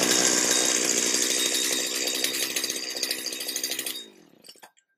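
A Stihl string trimmer, just repaired with a coil fix and carb rebuild, runs at a loud, high buzzing rev close by, then the engine sputters and winds down before cutting out.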